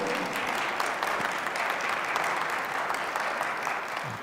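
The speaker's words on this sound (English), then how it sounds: "Another round of applause for Noah Rachels." Audience applause following a cantor's singing at a concert, dense steady clapping from a sizable crowd that carries on unbroken at even loudness throughout.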